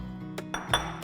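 A few light clinks as a utensil strikes a bowl while ginger dipping sauce with spring onion is stirred together, quiet, close and spaced out over a low steady background hum.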